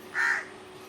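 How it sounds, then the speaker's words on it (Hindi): A single crow caws once, a short harsh call standing out clearly against a quiet background. "कौआ आमीन बोल रहा है,"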